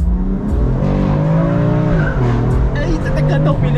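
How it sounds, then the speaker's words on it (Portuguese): Car tires squealing as the car accelerates hard on a street, heard as a loud, close, wavering screech over engine revving, with people talking. "até cantou o pneu, a bichinha"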